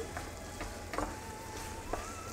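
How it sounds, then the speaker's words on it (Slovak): Pumpkin risotto simmering in a pan over a low flame as broth is added, a soft steady sizzle and bubbling with a few faint clinks of stirring. "A podlievame si naše risotto vývarom"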